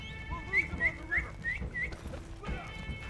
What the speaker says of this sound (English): everyone's doing the whistle.